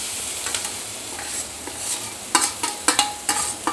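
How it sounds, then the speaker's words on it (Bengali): A spoon scrapes and stirs mashed potato into chilli, onion and spices already fried in a pan over medium-low heat. The stirring comes in close, irregular strokes over a faint sizzle, with no voices. "এখন আমি এই আলুটা, এই যে ম্যাশ করে রেখেছিলাম আলুটা আমি দিয়ে দিলাম।"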